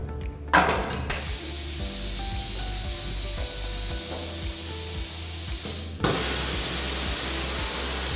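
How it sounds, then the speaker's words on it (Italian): Steam sprays from an MPT D Topper trouser finishing machine, a steady broadband hiss running under a low mechanical hum, with a louder burst of spray kicking in near the end. "di ritardare l'intervento della vaporizzazione solo al momento in cui le gambe del pantalone sono completamente distese"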